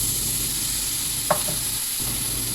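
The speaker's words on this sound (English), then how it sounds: "it's time to add chopped tomatoes in this." Chopped tomatoes sizzle and are stirred in a pan of vegetable tehri cooking on the lowest flame, a steady close frying hiss with a single soft spoon clink and no talking.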